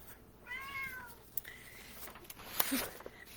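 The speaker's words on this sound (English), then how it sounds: "if you hear some meowing, I have a very interested book cat walking around here" A cat gives a single soft meow nearby in a quiet room among books, followed by faint rustling and small bumps.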